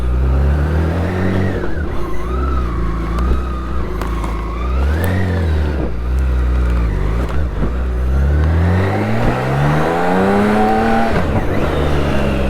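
A BMW K1600 GTL touring motorcycle on Michelin Road Pilot 6 GT tyres, riding on a road after rain and hail, its six-cylinder engine loud and close, rising and falling through repeated revs and gear changes, with strong wind rush and no talking.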